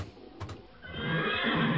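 A horse whinnies loudly amid a steady rushing background, followed by a brief rising noise.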